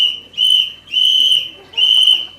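A whistle blown by mouth gives three loud, shrill, steady blasts with brief pauses between them, close and piercing.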